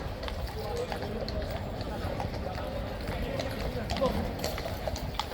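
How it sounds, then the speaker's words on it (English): Horses' hooves clip-clop on a hard surface as King's Guard horses are led to the Blues and Royals stables. A steady, moderately close stream of many overlapping hoofbeats plays under crowd murmur and a person talking. "Horses are being taken up,"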